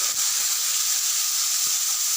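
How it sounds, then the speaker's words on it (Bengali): Eggplant pieces frying in a pan after dried red chillies went in, a steady bright sizzle and hiss throughout with a couple of faint soft knocks, close and even. "এরপর আমি বেগুনগুলোকে প্রথমে ভেজে নিব।"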